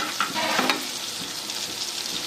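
Green chilies sizzle in hot oil for a Punjabi tadka masala Maggi, a steady close crackling fry with a few sharp stirring scrapes near the start and no talking.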